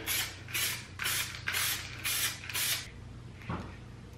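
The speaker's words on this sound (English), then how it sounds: "Paint seems to be coming out pretty fast, kind of splattering too." Spray paint hisses in six short bursts onto 2017 Kia Forte car parts, each burst roughly half a second long, close and moderately quiet, followed by a faint click.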